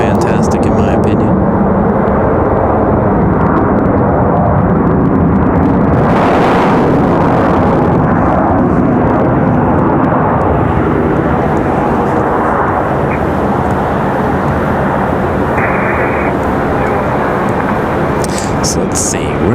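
Loud, steady roar of airliner jet engines, GE and Rolls-Royce Trent, at Raleigh-Durham International Airport, a dense broadband rumble with a hissing whine, sustained and close throughout.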